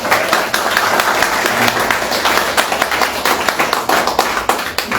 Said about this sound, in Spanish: Dale fuerte palmas a Dios.